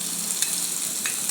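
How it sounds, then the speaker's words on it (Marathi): A ground chilli, garlic and coriander paste sizzles as it is tempered and stirred in hot oil, a steady bright frying hiss with a few spatter pops, close and alone. "आणि थोडं तेलात फोडणी व्यवस्थित परतून घ्यायची"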